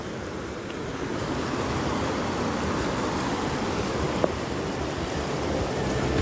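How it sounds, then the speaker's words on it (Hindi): A river in the Kangra area of Himachal Pradesh rushes steadily with a broad, even wash of flowing water, moderately loud and unchanging, with no voices. "और ये है रिवर"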